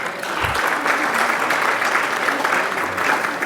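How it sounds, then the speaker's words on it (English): A conference audience at an international galvanizing event claps for speakers called to the stage, sustained, dense applause filling the room with a brief low thump near the start. "Can we have a round of applause for them?"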